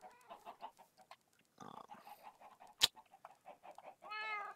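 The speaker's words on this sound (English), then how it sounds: "The chickens are still loud." Chickens cluck in quick, irregular bursts in a video game, with a louder squawk partway through, quiet and without talk.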